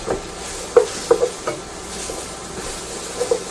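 Garlic, ginger, salt, pepper and turmeric are stirred in a pot for a spicy mushroom soup, with a soft sizzle under several quick scraping taps from the spoon.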